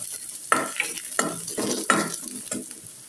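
Garlic, ginger and leek being stir-fried in a pan: a steady sizzle, close up, broken by four sharp scraping strokes of the spatula at roughly even intervals.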